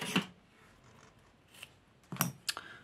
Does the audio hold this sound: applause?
no